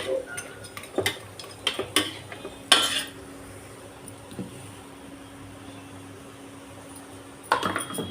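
Chicken sautéed in a pan with oil, mustard seeds and curry leaves for Chettinad chicken curry: irregular metal spatula clinks and scrapes against the pan over a quiet sizzle, with a pause before a final burst of clatter.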